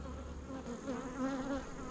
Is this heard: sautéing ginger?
no